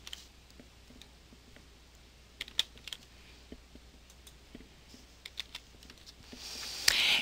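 A computer keyboard clatters as a search term is typed into a Ctrl F search box, with quiet, irregular key taps and a few louder clicks, alone and close up.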